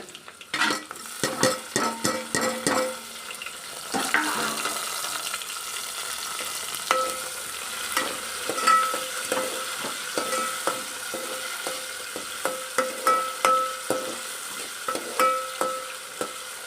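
Tomatoes soften in hot oil for soya bhaji, a steady sizzle running throughout while a spoon scrapes and clinks against the pan in repeated bursts of stirring, close and fairly loud.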